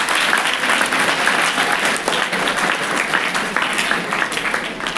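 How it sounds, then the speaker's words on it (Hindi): Audience applause for a student's correct answer at a school event, a dense, loud, steady burst of many hands clapping together without pause. "उसके लिए ताली होनी चाहिए"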